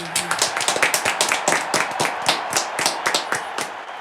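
Applause from a crowd, many hands clapping in a dense, steady patter for several seconds, fairly close and loud.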